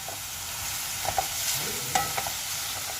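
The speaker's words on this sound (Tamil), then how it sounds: "நல்லா மிக்ஸ் பண்ணுங்கள் இப்போ மஞ்சள் ஆட் பண்ணோன்னா தக்காளி நல்லா வேகமாக வ வதங்கிடும்" Tomatoes and turmeric fry in a pan with a continuous loud sizzle, broken by a few scattered scrapes and clicks of the stirring spoon, close up and with no talking.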